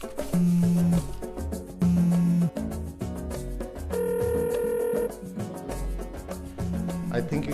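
A telephone rings in repeated short electronic tones over a busy music bed, several bursts spaced about a second or more apart, with some talk mixed in.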